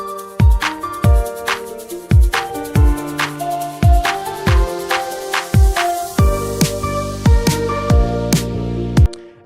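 A guitar melody entering a track being built: plucked notes with sharp attacks and quick decays in a repeating pattern, then fuller sustained tones joining partway through, clear and close, without voices.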